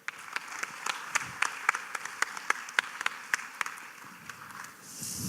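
Audience applause after a conference panel session, starting as scattered individual claps and swelling into fuller clapping near the end.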